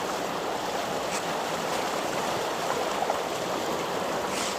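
Fast-flowing water rushes steadily through a carp pond in Bogor, a dense, continuous near roar with no pauses and no voices.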